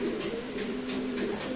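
A racing pigeon coos close by in soft, repeated low rhythmic calls over a faint background hiss, with no talking.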